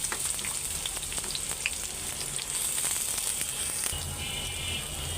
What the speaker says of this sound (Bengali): তেলটা গরম হয়ে গেছে, পেঁয়াজগুলি হালকা আগে একটু